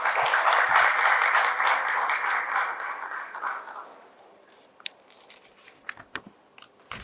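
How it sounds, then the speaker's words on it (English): An audience applauds a panel speaker at a business event, a dense burst of clapping that fades out after a few seconds, leaving scattered faint claps and room noise. "Shall we please give him a round of applause?"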